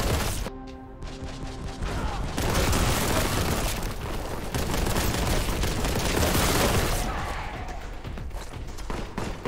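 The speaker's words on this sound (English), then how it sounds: "Wanted to throw a grenade." A grenade explodes in the video game Warhammer 40,000: Boltgun, a heavy booming blast with crashing debris and rumble amid surrounding gunfire and combat noise.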